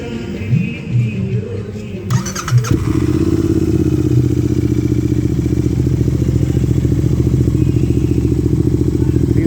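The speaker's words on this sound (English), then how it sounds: "This bike been fitted with Gursewak exhaust." Royal Enfield Interceptor 650 with a stainless steel Gursewak aftermarket exhaust fires up after some clatter and settles into a loud, close, steady twin-cylinder idle with an even thumping pulse.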